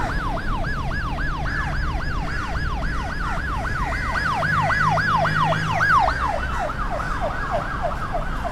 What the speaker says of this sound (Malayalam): ഒരു ആംബുലൻസ് വരുന്നുണ്ട്